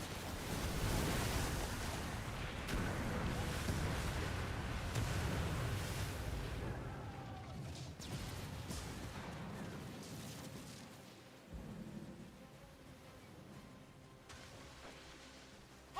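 Naval cannon fire in a ship-combat video game rumbles on as a steady, loud barrage of low booms over churning sea, easing toward the end with a final thud.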